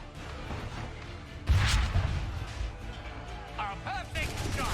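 A cannon fires once in the Assassin's Creed 3 video game, a sudden loud booming blast followed by a rumbling decay, set amid ongoing battle ambience with a few whistling sounds afterward.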